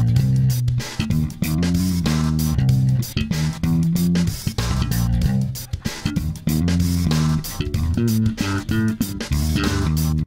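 A full slap bass line built on a triplet lick, with percussive thumbed lows and bright popped notes in a busy, driving groove, played loud and solo.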